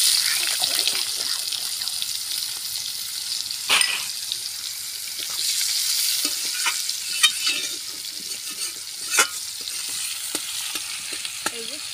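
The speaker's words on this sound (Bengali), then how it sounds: "এবার একে একে পেঁয়াজটা একটু লাল লাল করে ভেজে নিই।" Onions fry and are stirred in a pan with cumin and garam masala for a village-style dish, a steady hiss of sizzling oil broken by occasional scrapes and clinks of the spatula.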